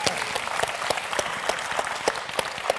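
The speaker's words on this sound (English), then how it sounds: "Big round of applause." An audience gives a steady round of applause, a dense continuous patter of many hands at moderate volume with a few sharper claps standing out, and no one speaking.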